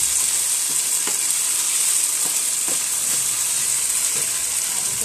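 Cardamom pods frying in a hot pan, a loud continuous sizzle and hiss with a few light clicks and stirring knocks spread through it.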